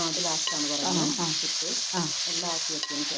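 Onions fried with salt sizzle steadily in a pan while a utensil stirs and scrapes them in short, repeated strokes, close and clear.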